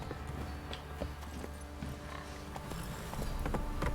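Horse hooves clip-clopping steadily on the ground in The Witcher 3, a quick even rhythm of close, moderately loud steps with ambient game sound beneath and no talking.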